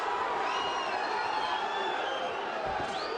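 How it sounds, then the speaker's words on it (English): Boxing arena crowd cheering during the Javier Mora versus Kirk Johnson fight, a steady excited roar with whoops and shouts rising from many voices, heard continuously at full volume. "Crowd got all excited"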